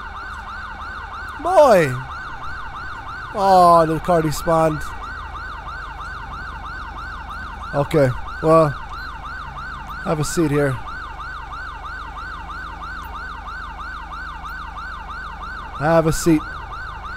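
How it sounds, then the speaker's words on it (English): A police car siren from the GTA 5 game with an LSPDFR police mod wails continuously in a steady, looping cycle, while someone talks intermittently over it. "That's my sirens going off right now."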